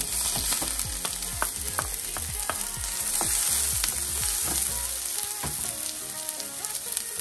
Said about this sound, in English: So with about 3 tablespoons of coconut oil, I'm gonna go in with some onion,